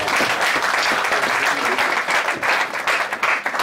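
Dense applause rises from a church congregation during a service, loud and close with uneven swells of many hands clapping and no words over it.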